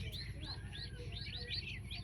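Quails at a quail farm give quick, repeated high chirps in short bursts, fairly close, over a steady low hum.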